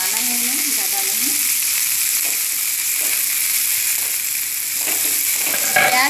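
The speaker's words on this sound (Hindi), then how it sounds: "तेल गरम हो चुका है, इसमें प्याज डालेंगे। पहले हम प्याज हल्का सा ब्राउन कर लेंगे" Onions frying in hot oil in a pan for homemade Indian-style macaroni, a steady, close, continuous sizzle with faint stirring scrapes and no talk.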